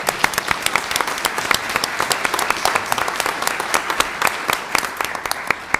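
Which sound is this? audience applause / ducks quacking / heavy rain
audience applause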